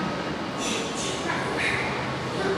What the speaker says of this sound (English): I made it to the subway from the Hangzhou airport, and now I'm basically waiting for the train to come